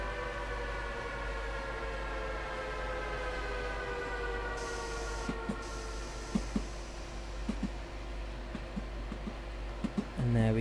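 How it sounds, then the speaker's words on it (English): A rapid transit train in Train Sim World braking to a halt, a steady low rumble with tonal whine bands slowly shifting, followed by a series of clanking thuds and a hiss near the end. "Let's start to bring the train to a halt for the last time in this live stream."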